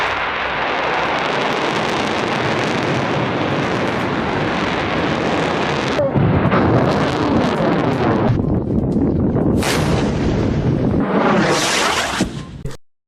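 Ghaznavi ballistic missile test launch, a loud sustained roaring blast of rocket exhaust with rushing, wind-like noise that swells and shifts before cutting off abruptly at the end.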